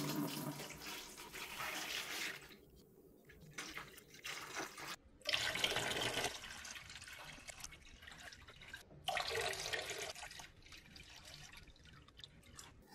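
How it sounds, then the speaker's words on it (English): Water pouring into a hydroponic seed starting tub, a steady close splashing stream that swells and eases in uneven surges with brief breaks. "Okay, so I'm going to start filling this up."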